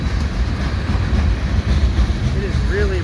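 A freight train on the Quebec Gatineau Railway, hauled by ex-BNSF and ex-CN units, rumbles heavily over a bridge near the Decarie Expressway with a constant deep roar and faint wheel squeals near the end.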